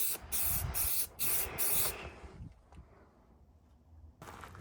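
Short hissing bursts of primer sprayed from an aerosol can onto a 3D-printed LEGO-style figure, four quick close blasts in a row, then a quiet pause before one more spray starts.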